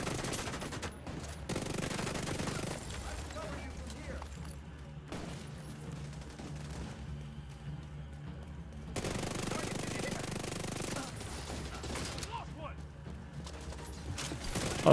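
Turret gunfire in The Division 2, sustained rapid automatic fire in long bursts with mechanical clatter and impacts, fairly loud and continuing across the whole stretch with brief lulls.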